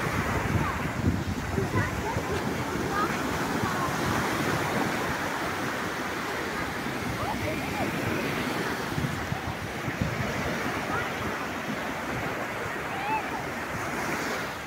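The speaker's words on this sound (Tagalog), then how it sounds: "Mabalud ang dagat." Sea waves wash steadily onto the shore at Kalba beach on a windy afternoon, a continuous broadband surf roar with wind buffeting the microphone throughout and no clear individual breaks.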